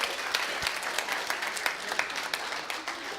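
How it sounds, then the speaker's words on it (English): A quick round of applause from a small audience at a Mother's Day gathering, steady dense clapping throughout with no voices rising above it. "let's give Tina a little quick round of applause as well."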